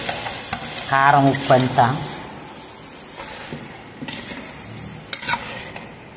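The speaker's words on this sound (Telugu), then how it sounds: "అదిగో చూడు అలా ఉడుకుతుంది" A chili-laden curry simmers and bubbles in a pan, a low sputtering hiss with occasional pops, while a voice speaks briefly near the start.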